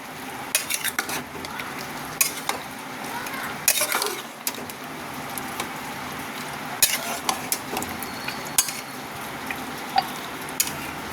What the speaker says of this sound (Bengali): এবার এটার মধ্যে কষিয়ে নেবো ভালো করে